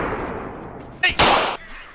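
A single gunshot in GTA roleplay, sharp and loud, cracks out after a moment of quieter background. A second, longer blast follows right behind it, then fades quickly.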